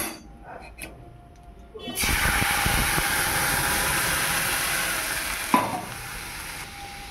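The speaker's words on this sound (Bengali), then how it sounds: "এবার দিয়ে দিচ্ছি সিদ্ধ করে রাখা কলাইয়ের ডাল।" Boiled kalai dal goes into a hot tempering of dry red chilli and asafoetida with a sudden loud sizzle that holds as a steady hiss. A stir clinks near the end.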